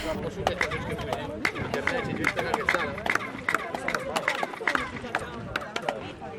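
People clap near the Castillo pyramid at Chichen Itza, and each sharp clap draws a ringing, chirp-like echo off the stone. The claps repeat irregularly over a background of crowd chatter and voices.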